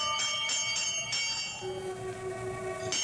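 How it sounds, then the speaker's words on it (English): A pulled doorbell at an old house door rings in a radio horror drama: four quick bright metallic strikes, then a lingering tone and one more strike near the end, clear and fairly close with no talking. "I reach out and pull the bell."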